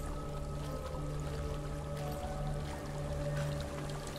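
A steady, dense rush of falling water from a waterfall in Hellblade: Senua's Sacrifice, continuous and unchanging, with a faint low hum beneath it.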